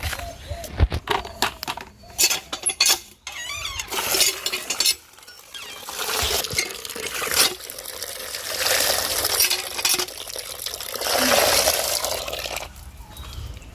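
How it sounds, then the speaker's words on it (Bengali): Water poured onto an ash gourd seedling in a village garden gives irregular splashes and trickles with clinking, uneven knocks, close by and moderately loud. "চাল কুমড়ো চারাটাতে একটুখানি জল দিয়ে আসি"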